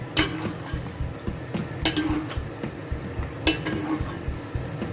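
A fried egg sizzles in a pan for a breakfast of bread and sausage, a steady close frying hiss with repeated clinks and scrapes of a utensil against the pan.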